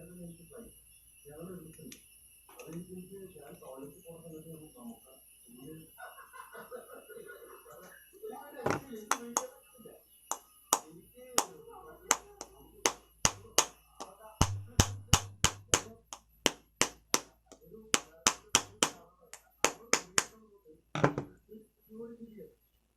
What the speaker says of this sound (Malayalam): ഒരു സ്ക്രൂ ഡ്രൈവർ ഉപയോഗിച്ചിട്ട് നമുക്കൊന്ന് തട്ടിയെടുക്കാം.